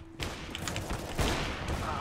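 AWP sniper rifle fire in CS:GO, a sharp shot at the start followed by dense, noisy gameplay bursts and thuds lasting a couple of seconds, with faint voice chat underneath.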